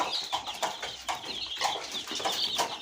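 Many small native chicken chicks, about a week or two old, chirping continuously, overlapping high peeps at close range with a busy, irregular rhythm.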